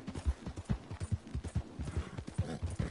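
Horse hooves gallop in Red Dead Redemption 2, a steady rapid clip-clop beat that runs close and loud throughout without pause.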